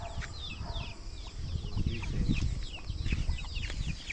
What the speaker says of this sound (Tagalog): Yan o, ating mga alagang manok.